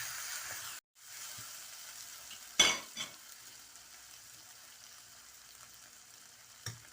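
Curry frying in a pan over high heat, giving a soft, steady sizzle, with a brief break and a couple of sharp utensil clinks against the pan, fairly quiet and with no talking.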